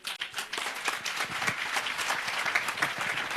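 Audience at a topper's felicitation ceremony breaking into dense, sustained applause, many hands clapping in a fast, even patter that holds steady throughout.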